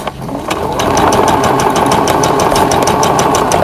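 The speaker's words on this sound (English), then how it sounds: "I'm just going to sew along the bottom, folding my dart over." Small sewing machine stitching a seam through several folded layers of towel fabric for a face mask, a loud close rapid mechanical whirr with a fast regular needle clatter that starts after a short pause and runs continuously.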